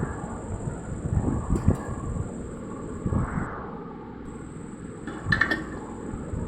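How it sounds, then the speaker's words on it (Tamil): Spinach and amaranth stem greens stirred in a metal pan with a spoon, then covered: scattered scraping and sharp clinks over a steady background hiss, with a few louder metallic knocks close by. "இப்போது கலந்து விட்டு மூடி வச்சுடுவோம்"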